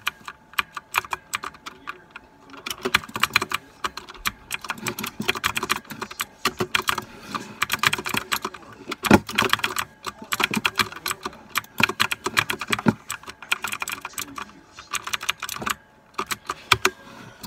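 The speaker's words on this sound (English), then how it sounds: "Now I can't complain because I got my new keyboard, because the other one has a delay." Rapid clattering keystrokes on a new computer keyboard, bursts of fast typing with short pauses, close and crisp, no talking.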